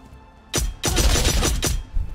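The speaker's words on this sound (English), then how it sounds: "he shot you, right?" Rapid gunfire from a first-person shooter game, several close, loud bursts in quick succession with short gaps, with no talk over them.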